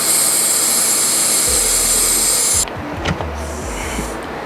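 Air rushes loudly out of a motorcycle tire being deflated before removal, a steady hiss that cuts off sharply partway through, followed by quieter handling clunks.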